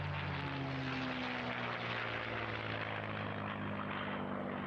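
A P-51 Mustang with a Rolls-Royce Merlin engine drones at an airshow in Eastbourne, giving a steady, powerful propeller roar with a deep throbbing hum that holds without a break.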